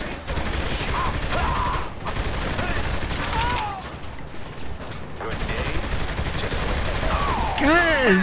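Rapid gunfire bursts from Saints Row 3 play in dense, continuous volleys during a firefight with riot-shield enemies, while character voices and a player's speech come through over the shooting.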